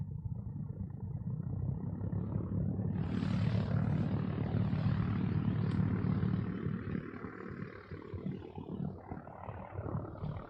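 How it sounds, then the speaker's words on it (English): An airplane takes off at a distance, its engine roar building and holding steady for several seconds before gradually thinning out, with no talk over it. "wait for a plane to take off, I definitely want to see a plane"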